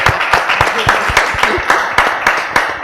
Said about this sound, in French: Je vais demander d'applaudir plus fort ces dames qui ont un vrai passé derrière.